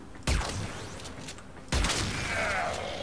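Two heavy blasts from the Arca Plasmor radiation gun in the video game Warframe, each a sudden loud burst trailing into a roaring, whooshing decay.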